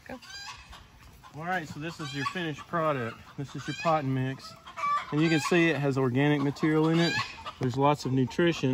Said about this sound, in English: we have a little rooster that is just raising cane